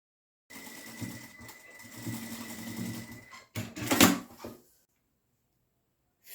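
A sewing machine runs in short bursts as it stitches the side seams of a fabric lingerie pouch, a close rhythmic whirring with pauses and a louder final burst before it stops.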